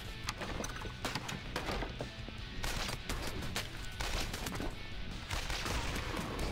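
Rapid gunfire from the video game Earn to Die Rogue, bursts of repeated shots in quick succession with short pauses between volleys, fairly faint overall.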